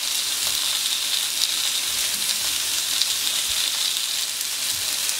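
Small carrots sizzle on a hot griddle plancha, a steady bright hiss with faint crackles and pops throughout, close and alone without voices.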